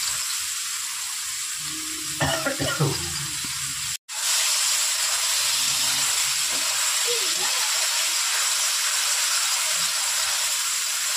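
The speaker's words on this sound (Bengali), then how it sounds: "লাল লাল করে মশলাটা ভেজে নিচ্ছি" Ginger-chilli paste fries in oil for a ridge gourd dish, giving a loud, continuous hiss-like sizzle. A brief murmur rises early, and the sound cuts out for an instant midway.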